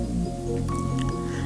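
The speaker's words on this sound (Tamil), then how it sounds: "லம்ஸ் இல்லாமல் நல்லா அடித்து பிசைஞ்சிக்கலாம்." Dosa batter being kneaded and beaten by hand until lump-free, giving wet squishing and slapping sounds that are steady and close, mixed with soft dripping, with no talking.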